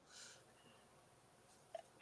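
A single abrupt sneeze bursts out at the very end after near silence, close and loud.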